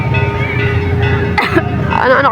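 A single sharp cough bursts out midway after someone chokes, brief and close, with casual voices talking around it.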